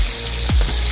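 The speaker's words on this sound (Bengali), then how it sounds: "এই হচ্ছে আমাদের পমফ্রেট ভাজা" Pomfret fish sizzles and spits in hot oil at a busy shared cooking spot, a short close burst of frying with a stirring clatter in the middle.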